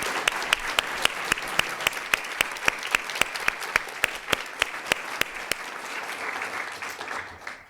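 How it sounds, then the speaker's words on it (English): Steady applause from a crowd at a law lecture, with loud, regular claps standing out near the front, fading at the end. "Applause is appropriate."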